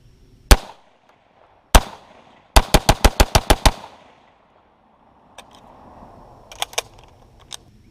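Rifle fitted with a muzzle brake fired at dirt outdoors: two single loud cracks, then a rapid string of about seven shots, with fainter echoing pops afterward.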